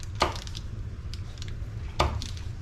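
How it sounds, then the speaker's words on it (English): A knife cuts pads of butter for a turkey with two crisp, separate strokes about two seconds apart. The chops sound close and distinct against a quiet kitchen background. "what we're gonna do is just cut some pads of butter"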